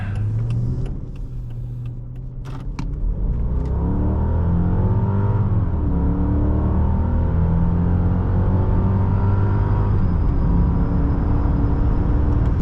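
A 2001 Mercedes-Benz S55 AMG engine drones steadily from inside the cabin while driving, its pitch rising and falling through gear changes as it accelerates, loud and continuous with no talk.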